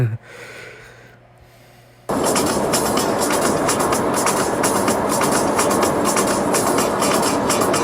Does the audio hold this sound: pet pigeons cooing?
no